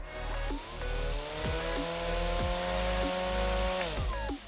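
On its high setting, a 42V cordless electric grass trimmer runs with a loud, continuous whirring motor whine close by, its pitch sagging and recovering in short periodic dips.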